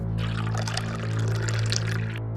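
Water poured from a container into a glass at home, a steady splashing pour running for about two seconds over a constant low hum, close and fairly loud.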